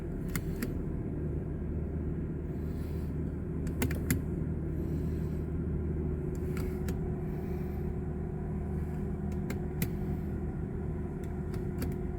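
A 2010 Subaru Outback with the 3.6 engine runs at a steady, even idle, a constant low drone with a few sharp clicks and taps scattered over it.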